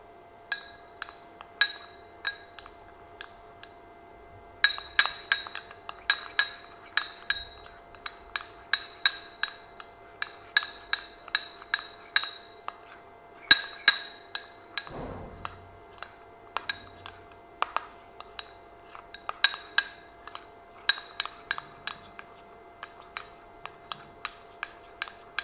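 A spoon clinks repeatedly against a glass bowl as stretch-mark remedy ingredients are mixed, bright close taps in an uneven but steady rhythm over a near-silent background.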